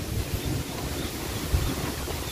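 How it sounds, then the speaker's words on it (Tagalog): Strong wind gusting at an outdoor rural spot where a duck coop is being repaired, a steady loud roar buffeting the microphone with no talk. "Lakas ng hangin."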